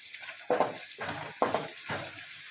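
Onions frying in a pan for a lunchbox recipe give a steady sizzle, broken by four evenly spaced louder bursts of hissing and scraping as they are stirred, heard close and alone.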